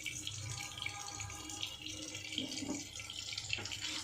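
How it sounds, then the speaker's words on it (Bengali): Water is poured into a pan of fish chochchori, making a continuous, quiet, splashing trickle with no talk. "এবারে জল দিয়ে দেবো"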